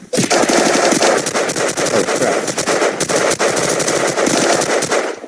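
Rapid automatic gunfire in the zombie survival video game Unturned, loud and continuous bursts filling the whole stretch with barely a pause.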